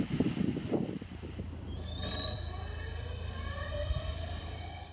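A heavy lift drone spins up and takes off at a wind turbine carrying a repair robot, its rotor whine rising steadily into a loud sustained tonal hum after a burst of low rumbling.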